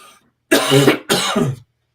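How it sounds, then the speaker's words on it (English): Two short bursts of harsh coughing close to the microphone, separated by a brief pause, with silence before and after. "I'm sorry for the coughing"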